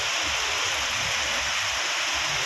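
Steady rain pours down onto an asphalt road, a continuous broadband hiss with no distinct drops standing out, fairly loud and even throughout with no voices.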